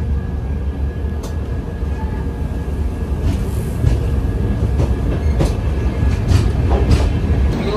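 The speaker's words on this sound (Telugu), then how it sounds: "ట్రైన్ జామ్నగర్ స్టేషన్ లోపలికి ఎంటర్ అవుతూ ఉంది" A passenger train rolls into Jamnagar station in Gujarat, recorded from on board: a steady low rumble with rail clatter and occasional clicks and bangs, growing slightly louder, with no talk.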